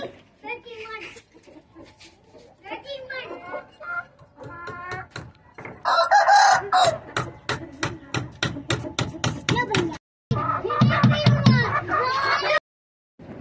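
Chickens cluck and a rooster crows in a backyard poultry setup, with busy bursts of fowl calls and a few sharp knocks. Someone speaks throughout, partly over the birds.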